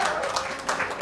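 A short burst of clapping from a small group at a talk in a comic shop, steady and moderately loud, lasting about a second.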